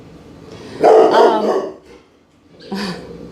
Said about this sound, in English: my dog sees somebody out there